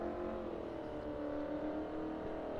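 A race car engine in a racing video game revs in a steady, droning whine that holds at an even loudness throughout, with no voices over it.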